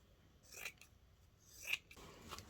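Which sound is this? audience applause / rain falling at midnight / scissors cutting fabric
scissors cutting fabric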